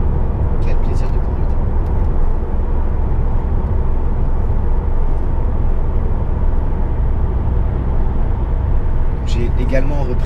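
Peugeot RCZ 1.6 THP coupé from 2011, steady loud engine and road drone from inside while driving, continuous for the whole stretch, with faint chirps near the start and end.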